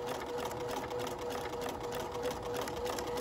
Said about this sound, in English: we're going to sew all the way until the end